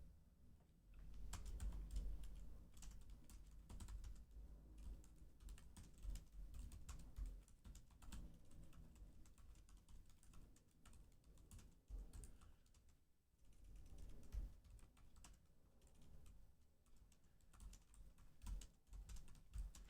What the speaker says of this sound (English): the Mac that I'm typing on